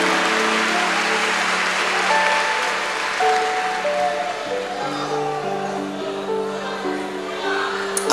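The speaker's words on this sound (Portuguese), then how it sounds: "Aplausos a Jesus." A church congregation applauds, a dense sustained clapping that fills the room, with a sung or spoken voice carrying on over it.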